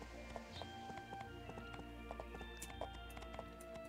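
Galloping hooves of a speedy horse named Horse in My Time at Portia, rapid rhythmic clip-clop steady and close, over light background game tones, with a voice speaking over it.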